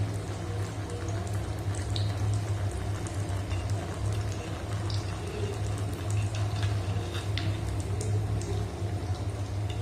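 Appam batter sizzles and bubbles in hot oil in a kadai, a steady close frying crackle with dense fizzing and occasional sharper pops throughout, no voices.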